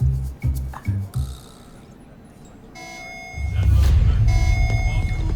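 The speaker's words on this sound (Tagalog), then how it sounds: "Alarm na naman. General alarm to." A general alarm sounds with a steady high-pitched electronic tone over a loud rumbling background, following a few thumps and a quiet pause.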